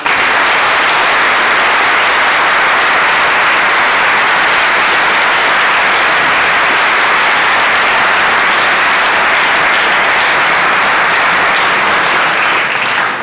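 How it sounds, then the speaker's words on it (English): A lecture audience at a military college claps loudly and evenly for over thirteen seconds, a thick sustained wash of many hands with no voices heard. "I think we should at least clap for those people."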